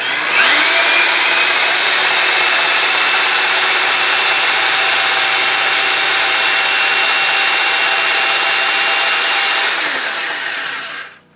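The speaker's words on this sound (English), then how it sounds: "Okay, so that's just using the regular drill, not the hammer drill part." A drill in regular mode, with the hammer action off, bores a pilot hole through an 8-inch concrete block wall, giving a loud, close, steady high whine for about ten seconds before it winds down and stops.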